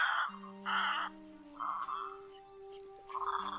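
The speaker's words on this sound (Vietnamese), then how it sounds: "em lưu bản tiếng chim này Thuận đã đánh qua và bán cho một số khách quen thuộc" A recorded call of a black-billed egret, used as a lure for night netting, repeats as harsh, nasal, croaking bursts separated by short gaps, fairly close and clear.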